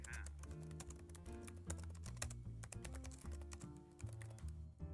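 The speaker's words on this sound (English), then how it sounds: "Can you hear my typing?" Someone types on a computer keyboard in a rapid, irregular stream of close clicks and taps over a steady low hum.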